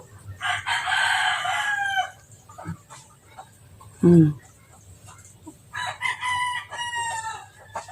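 A recovering pet chicken that had been ill clucks and gives throaty calls in bursts, with a louder low squawk in the middle, close by against faint background noise.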